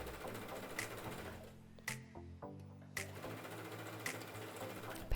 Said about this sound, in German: Und beide Lagen, die wir hier zusammennähen, schließen gemeinsam rechts ab.